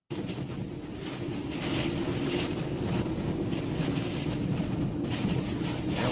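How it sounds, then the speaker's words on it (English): Hurricane wind in Texas roars and buffets the microphone in a continuous, heavy rush, with surging gusts near 100 mph and no voices. "these are probably 100-mile-per-hour gusts"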